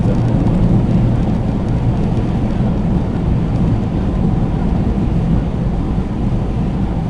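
A Peugeot 208 driving along an open road outside town, with steady loud low road and engine rumble and wind noise holding constant throughout, with no voices.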